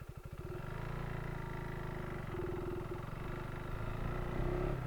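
KTM 390 Adventure R motorcycle engine pulling steadily uphill in first gear, a close, continuous buzzing drone whose pitch and loudness build gradually toward the end.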